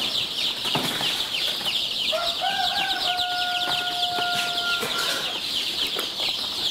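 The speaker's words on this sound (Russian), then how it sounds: "Вот цыплята, да?" Young chicks raised on commercial compound feed peep and cluck close by, with a couple of drawn-out whistling calls and soft wing flutters over a steady hissing background.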